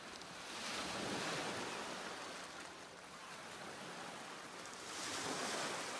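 Ocean waves from the Beach MF synth preset in Electra: a broad, steady wash of surf noise that swells, eases slightly in the middle, then builds again, with no other sounds.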